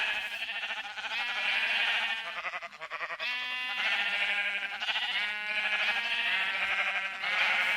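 Sheep in Minecraft bleat repeatedly in a steady series of wavering calls, close and fairly loud, with no talking.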